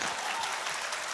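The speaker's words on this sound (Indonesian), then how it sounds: "Tepuk tangan dong buat kita, boleh ya?" Brief burst of audience applause at a school reunion event, steady, dense clapping from a crowd in a hall, moderately loud with no talk over it.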